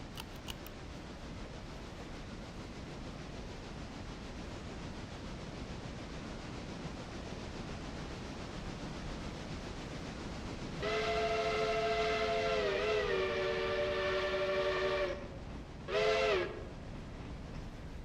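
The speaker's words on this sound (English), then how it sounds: "Come on, train, go." A freight train in the railroad simulation game Railroader rumbles along steadily, then a loud, sustained multi-tone whistle sounds for several seconds, followed by a second short blast.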